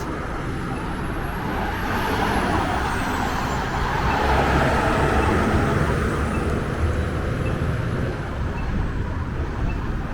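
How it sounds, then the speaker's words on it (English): A city bus pulling away in Toronto traffic on Lawrence Avenue West near Dufferin Street, a broad roar of engine and road noise that swells midway, with a faint high whine drifting overhead. "now the bus has finally moved"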